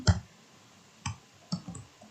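Sharp clicks from a computer mouse come at irregular intervals, about four or five close, dry taps with quiet gaps between them and no talking.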